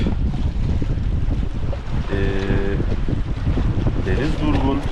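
Breeze blowing over water buffets the microphone in a steady, rough rush, with faint water movement and a possible murmur of voices underneath.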